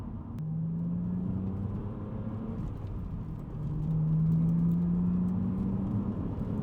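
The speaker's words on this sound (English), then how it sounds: "listen to that engine" A BMW Z4 Coupe engine hums steadily at close range on a mountain pass, its low drone rising in pitch as it revs up partway through, with no talking.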